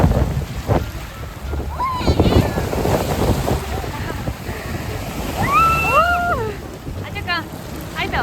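Strong waves surge and wash along the shore of Lake Alakol in blustery wind, a steady rushing roar with wind buffeting the microphone, while people talk and exclaim over it.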